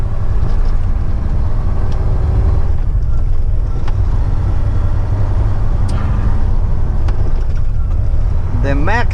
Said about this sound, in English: I love, you know, that deep roar of the engine.